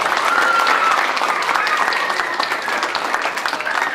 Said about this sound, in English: Let's give Marina a big round of applause.